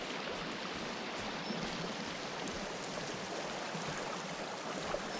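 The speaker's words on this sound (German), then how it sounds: "Oh, warte mal, fließendes Wasser." Flowing stream water in the Sons of the Forest survival game, a steady broadband rush and babble that stays even throughout, alone with no voices.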